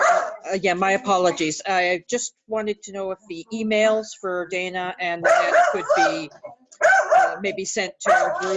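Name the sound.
dogs barking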